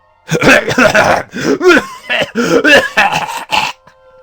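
A string of harsh, throaty coughs comes in quick bursts, loud and close, one after another with short gaps between.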